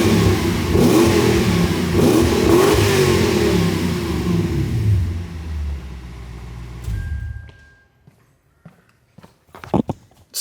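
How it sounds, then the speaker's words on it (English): A Lexus LS400 with its 1UZ V8 engine and some mufflers removed revs loudly and close for several seconds, then settles to a quiet idle with a few faint knocks and clicks. "I'll drop the camera here and give you guys a bit of a rev."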